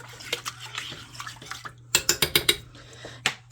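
A spoon stirs rice in a crock pot for jambalaya with shrimp and andouille sausage, giving wet scraping and several sharp clinks against the pot, close and fairly quiet, with a quick burst of knocks midway.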